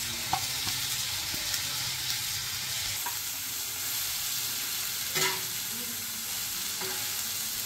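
Grated coconut sautéed with coriander in a pan for adai dosa batter. A continuous soft sizzle runs throughout, broken by occasional scraping stirs and small clatters, with no talking.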